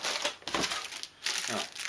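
Plastic bags from a Tamiya Volkswagen Karmann Ghia model kit crinkle and rustle up close in loud, uneven bursts, with a brief pause midway.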